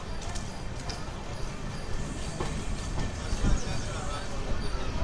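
Sapthagiri Express with new LHB coaches rolls through Puttur station on the main line, a steady rumble with wheel clatter. Crowd noise and voices run underneath.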